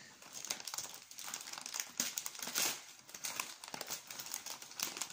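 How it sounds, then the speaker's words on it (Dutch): Gift wrap printed with a fairy-tale pattern crinkles and tears in short bursts over about five seconds while a baby shower present is unwrapped, with a close, crackly paper rustle and no talking. "Een beetje scheuren."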